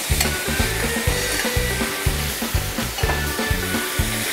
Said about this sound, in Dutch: En dan gaan we eerst eventjes het vlees aanbakken met de groentjes.